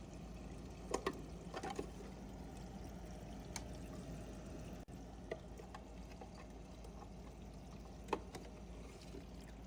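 Water pours out as the protein skimmer cup of a 32-gallon Biocube reef tank is dumped, a faint, continuous splashing trickle with a few soft knocks, heard alone without talk.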